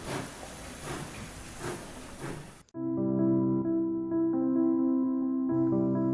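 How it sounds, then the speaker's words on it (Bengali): A train pulls out of a small rural station in an audio drama: a steady steam-like hiss with soft rhythmic chugs for a few seconds, then it cuts abruptly to sustained musical tones. "ট্রেন দু মিনিট থেমে চলে গেল"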